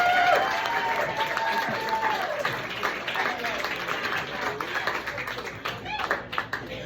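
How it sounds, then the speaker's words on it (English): Comedy club crowd applauding a comedian at Steve Sweeney's Comedy Den, a broad continuous patter of clapping that fades a little toward the end, with some talk and cheering underneath. "Give them a round of applause."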